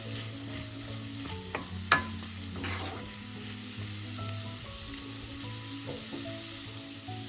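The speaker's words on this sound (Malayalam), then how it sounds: "ലോ ഫ്ലെയിമാക്കി വഴറ്റാം." Shallots sautéing in a pan on low flame for a prawn and shallot roast give a steady, soft close sizzle, broken by a few clinks and scrapes of a stirring spoon, with no voices.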